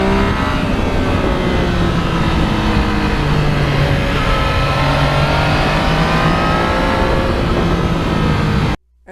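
Yamaha MT09 motorcycle engine revving and accelerating close by, a loud continuous rising and falling engine note that cuts off abruptly at the end.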